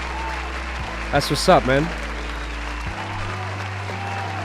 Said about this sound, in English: Applause for Ty V for getting that going, man.